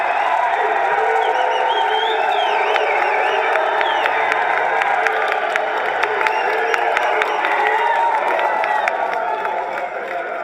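A studio crowd at a show taping cheers, whoops and shouts continuously, a loud, dense roar of many voices filling the whole stretch.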